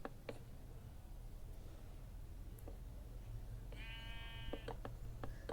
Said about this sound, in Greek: Τα πρόβατα κάνουν έτσι.